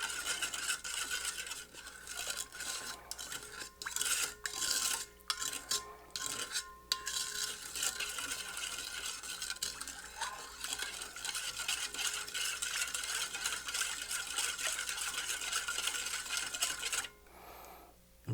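A pre-batched cherry bounce cocktail is stirred steadily in a container, giving a continuous close scraping and swishing with occasional clinks, fading and stopping briefly near the end.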